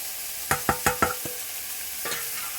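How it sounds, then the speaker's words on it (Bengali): Vegetables being stirred in a hot pot for khichuri: a quick run of four or five sharp scraping clacks, then a pause and one more scrape, over a soft steady sizzle with no talk. "আর এই সবজিটা ভেজে নিয়ে এটাও দিয়ে দেবো"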